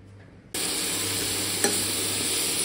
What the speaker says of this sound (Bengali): টমেটো, ক্যাপসিকাম, ফুলকপি, আলু সব কষানো হচ্ছে